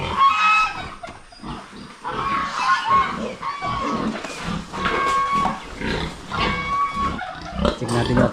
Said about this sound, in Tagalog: Nasa loob yung mga biik natin.